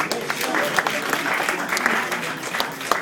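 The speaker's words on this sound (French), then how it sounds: "qu'on applaudit très très fort" Audience applause at a rugby club's player presentation: steady, dense clapping from a crowd through the whole stretch, fairly close, with a few sharper claps standing out.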